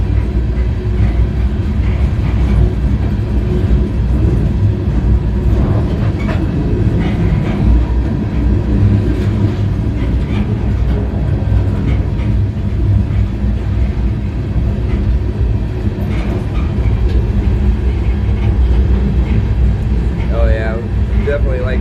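Train riding through downtown Knoxville at speed, a steady loud low rumble of wheels and rail cars continuing throughout, with occasional squeals and clanks over the top and people talking under the noise.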